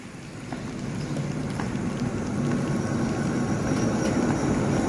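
A steady low rumble of a diesel passenger train idling at a station, with a constant mechanical drone and faint clicks, continuous and fairly close.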